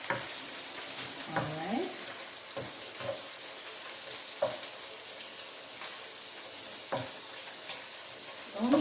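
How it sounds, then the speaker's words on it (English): Garlic sizzling in a hot pan for fried rice, a faint steady fry with occasional clinks and scrapes of stirring; a voice speaks briefly over it. "I don't want to burn the garlic, so I'm putting it in now."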